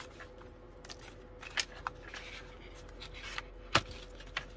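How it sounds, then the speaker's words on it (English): Scissors snip and crunch through the stiff handles of a paper bag in a few sharp cuts over a quiet hum, with soft rustling between the snips. "With my really sharp scissors."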